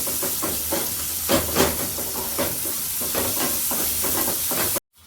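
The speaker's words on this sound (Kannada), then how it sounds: "ಇವಾಗ ಆನಿಯನು ಮತ್ತು ಉಪ್ಪು ಹಾಕ್ಕೊಂಡು ಚೆನ್ನಾಗಿ ಫ್ರೈ ಮಾಡೋಣ" Onions and salt fry steadily in a pan with a constant hiss and sizzle, broken by a few louder stirring scrapes, close and alone without voices.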